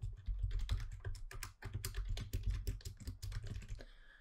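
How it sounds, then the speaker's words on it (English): Someone types on a computer keyboard, a quiet run of rapid, irregular clicking keystrokes heard close up with no other sound. "The next thing you want to do is type in a message."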